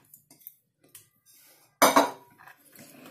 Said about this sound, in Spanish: cogeremos las alitas de pollo y las iremos impregnando todas bien aquí dentro. Así que las vamos a echar todas de golpe.